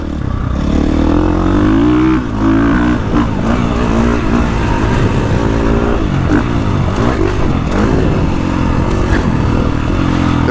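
A KTM 450 Factory Edition motorcycle engine roars continuously and loudly while riding, its pitch rising and falling as the throttle opens and closes, with no talk over it.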